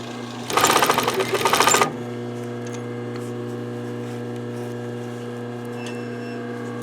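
A sewing machine stitches a zipper in one quick burst of rapid stitching for just over a second, then stops, leaving a steady low hum.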